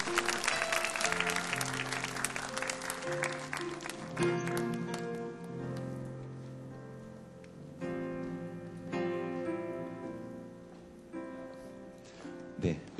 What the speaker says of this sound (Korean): 우리 박수로 함께 앞으로 모셔보도록 하겠습니다